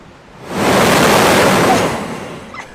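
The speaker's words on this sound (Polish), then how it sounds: "dziury, przez które wieje bardzo mocny powiew powietrza, kiedy fala dobija do brzegu" A strong gust of air surges from a blowhole on a rocky Australian shore as a wave strikes, a loud broadband whoosh that swells, holds and fades over a couple of seconds.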